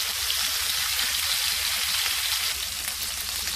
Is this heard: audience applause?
no